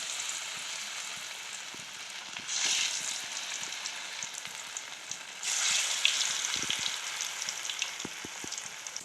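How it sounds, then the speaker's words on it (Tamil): Masala-coated fish fries in hot oil with a steady, bright sizzle that swells twice as pieces are added or moved, over a few light taps from the pan. "இப்போ பொரிச்சு எடுத்துக்கலாம்."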